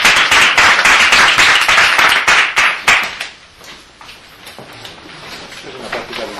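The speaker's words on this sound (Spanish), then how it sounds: "Es una práctica ritual, aplaudir al final de la sesión." Brisk rhythmic hand clapping closes a guided relaxation session, a run of sharp close claps for about three seconds that then thins into a few scattered taps and quiet room tone.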